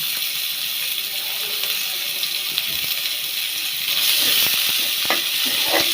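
Chopped onion fries in oil for a sea bhetki fish curry, giving a loud, steady sizzle close up, with occasional scrapes and clicks of stirring growing busier toward the end.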